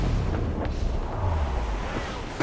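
Ship cannon fire during a naval battle in Assassin's Creed Rogue, heard as deep, rumbling booms rolling under continuous low battle noise, with a sharp burst near the start and another at the end.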